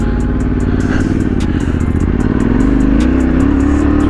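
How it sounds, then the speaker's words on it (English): Motorbike engine pulling hard in second gear up a steep hill, loud and close, with a steady rising drone and rough clatter as the rear wheel spins on the climb. "Second gear, power on, all the way up to the top"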